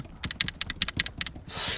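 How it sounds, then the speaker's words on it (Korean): Rapid clicking of keys on a computer keyboard, a quick run of close, crisp taps followed by a short hiss. "이거 근데 뭐예요? 키보드?"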